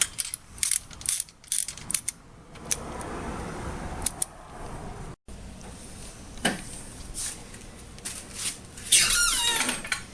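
A ratchet tightens bolts on a Toyota RAV4, giving quick clicking bursts and metallic squeaks that come in short irregular runs with pauses between, fairly close and moderately quiet.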